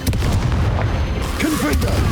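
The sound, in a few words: Confringo spell explosion in video game Hogwarts Legacy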